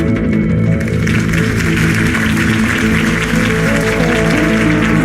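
Crowd applause after Harvey Dent's campaign speech in the Batman Telltale video game, a dense steady wash of clapping that stays loud and continuous throughout, with a low rumbling bed beneath it.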